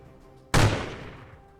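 A single gunshot in the Warhammer Quest video game, a sudden loud blast with a long decaying boom tail after a quiet moment.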